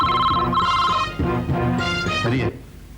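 A telephone rings with a repeating electronic tone, loud and close, alongside other tonal sounds before cutting off.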